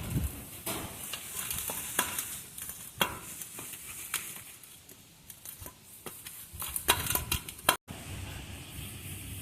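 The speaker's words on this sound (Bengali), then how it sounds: "এখন সুজির মধ্যে ধনিয়া পাতা কুচি ভাজা শুকনো মরিচ এগুলো সব একসঙ্গে মিশে নেবো" Semolina mixed together with chopped coriander leaves and fried dried chilli, giving a steady gritty rustle and scraping, with quick clicks and taps of the utensil on the bowl, close and fairly loud, with no talking.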